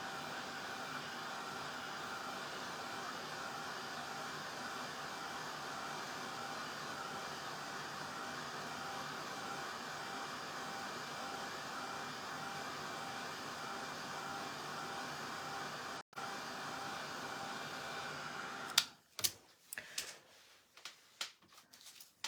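A hair dryer blows on a freshly painted wooden door hanger, giving a steady close whooshing drone with no talk. It cuts out briefly, then stops, followed by a few sharp handling clatters.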